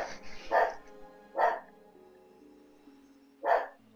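A dog in World of Warcraft barks three times in short, loud, separate yelps spaced about a second or two apart, with a steady tonal game background underneath.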